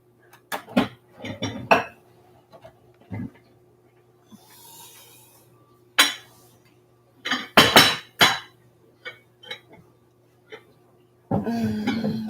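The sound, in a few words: getting out a casserole dish among dishes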